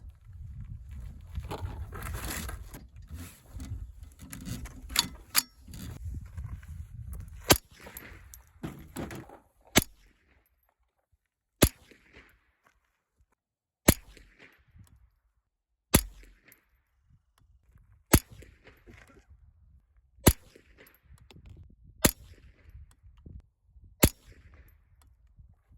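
A Savage A22 Precision .22LR rifle fires Remington High Velocity Thunderbolt rounds: after some muffled handling, a string of about ten sharp, evenly spaced cracks rings out roughly two seconds apart.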